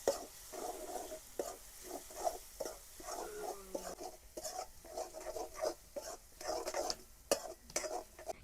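Pasta with turmeric, coriander-cumin powder, red chilli and salt being stirred in a pan, a run of soft rhythmic scrapes and taps of a spoon against metal, close and fairly quiet, with no talking.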